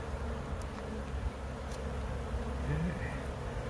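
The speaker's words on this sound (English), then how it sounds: "Queenie is somewhere in amongst all these bees." Honey bees hum steadily around an open hive as frames are lifted out, a soft dense buzz with a few nearer bees passing close.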